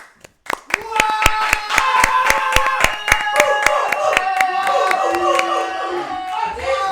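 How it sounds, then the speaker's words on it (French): A small audience at a live MMA league event claps for the referee, crisp individual hand claps in a fast, fairly regular rhythm, close and distinct rather than a dense roar, with a few voices mixed in. "j'aimerais que vous puissiez faire un tonnerre d'applaudissements pour l'arbitre de ces 3 rencontres"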